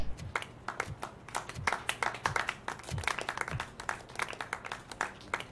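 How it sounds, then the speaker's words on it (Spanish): Applause in the video game RoboCop: Rogue City, dense rhythmic clapping from a crowd that carries on steadily and loudly throughout. "Hombre, qué animados con esos aplausos."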